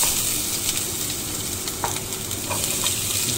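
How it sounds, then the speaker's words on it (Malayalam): Fenugreek seeds frying in coconut oil for a Kerala-style king fish curry, a close, steady sizzle and crackle with a few spoon clicks against the pan, no voices. "വെളിച്ചെണ്ണ വെച്ച് ഉലുവ കേട്ടോ. ഉലുവ ജസ്റ്റ് ഈ ഒരു കളറാവുമ്പോൾ"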